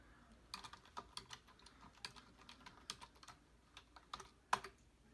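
Rapid, uneven typing on a computer keyboard while entering a Minecraft-style set block command, with clicky key strikes in short bursts and one louder tap near the end, close up and without speech.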